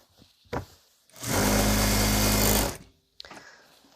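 A sewing machine runs in one steady burst of about a second and a half, stitching the edges of a baby quilt, with brief handling clicks before and after and no talking.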